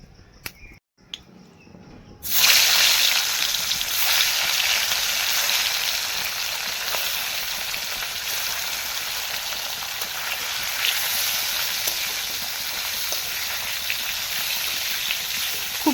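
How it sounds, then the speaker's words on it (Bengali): Pieces of rui fish drop into hot oil after a couple of quiet seconds, setting off a sudden loud sizzle that settles into a steady, hissing crackle of frying, close by and alone. "এবার আমি মাছগুলো ভেজে নিই"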